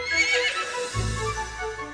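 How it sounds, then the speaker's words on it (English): Horses in a Cinderella fairy-tale scene whinny loudly, a high neigh ringing out and then a lower snorting whinny, with hoofbeats underneath and no talking. "Gus, Jacques, and 2 of their friends were turned into 4 proud white horses"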